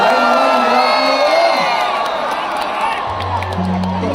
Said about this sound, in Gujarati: તાળીઓ તમારા માટે તાળીઓ પાડો